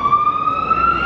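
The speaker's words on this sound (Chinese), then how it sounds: "原来这里有救护车，滋溜滋溜啊！" Ambulance siren on a street in Porto, Portugal, a steady wailing tone that holds for about a second, fairly close and loud over low city rumble.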